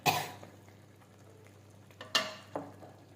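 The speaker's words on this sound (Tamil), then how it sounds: "இப்போ அரைச்சி வச்சுருக்கிற தக்காளி விழுது ஊற்றுறோம்." Ground tomato paste hits a simmering vegetarian eeral gravy in a few sharp sizzling bursts, close and moderately loud, with quiet bubbling between them.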